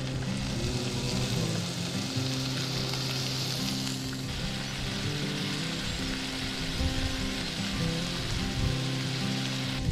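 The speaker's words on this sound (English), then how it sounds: "Getting a real sizzle on." Garlic fries in a pan outdoors by a river, giving a dense, continuous sizzle and crackle at close range, steady throughout with a low rumble underneath and no speech.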